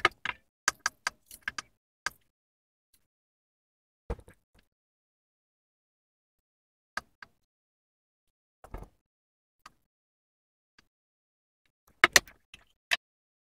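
Fabric pinned together with its lining is cut with scissors, giving sparse, crisp snipping clicks in small clusters separated by long quiet gaps, close and faint.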